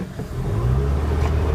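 A Honda Civic with a maintenance fault accelerating, its engine a low, steady rumble building briefly from close by.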